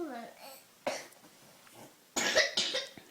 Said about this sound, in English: I have a bad cough, Mummy.